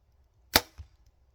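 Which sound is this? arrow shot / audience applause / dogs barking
arrow shot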